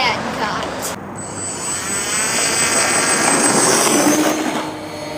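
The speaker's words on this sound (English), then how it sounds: "the plane takes off really smoothly" An RC SMOKEJUMPER plane's engine whines on takeoff, a steady high-pitched drone that rises and holds loud and close after a brief pause, with some wind noise.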